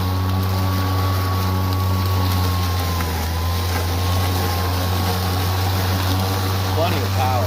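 A Greenworks 48V brushless self-propelled 21-inch lawn mower runs in mulch mode with a loud, steady electric whine and deep whirring hum, continuous and close throughout.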